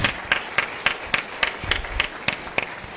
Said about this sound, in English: Dear audience, let's give a big round of applause.